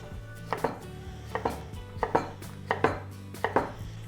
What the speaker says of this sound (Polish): Będzie to ogórek, kroimy w drobną kostkę.